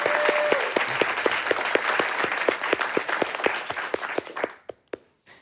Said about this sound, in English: Let's give one more round of applause to CC.